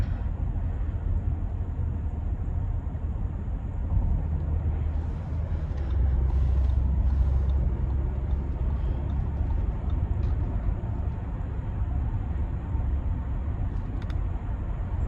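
Audi Q7 Premium Plus engine pulling above 2,000 RPM while driving, a steady low rumble with road and cabin noise that swells slightly midway, heard from inside the car.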